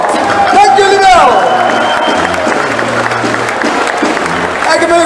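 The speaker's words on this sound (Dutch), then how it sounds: "Een groot applaus voor die 6 man en vrouw van de Schutterie van Schaarsberg." A crowd applauds the six members of the Schutterie van Schaarsberg, a Dutch schutterij shooting guild, loud sustained clapping under someone speaking over a public address, with a brief sliding tonal sound early on.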